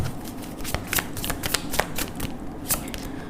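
Oracle cards shuffled by hand give a steady, close papery riffle with quick flicks and slaps running throughout.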